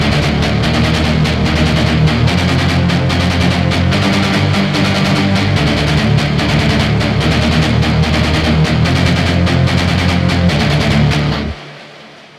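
Dense industrial metal synth layers stacked together in Logic Pro, a loud, constant wall of gritty sustained tones with rapid pulsing texture that plays steadily, then cuts off abruptly near the end, leaving a brief fading tail.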